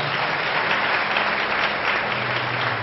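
An audience at a church gathering in a college claps loudly and steadily, producing a dense, continuous wash of applause that lasts throughout.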